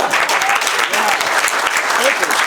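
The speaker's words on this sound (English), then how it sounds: "Can I get a round of applause for everyone who thinks that's silly?" Loud, dense crowd applause at an outdoor Liberty Fest political rally, steady clapping and cheering filling the whole stretch with scattered voices mixed in.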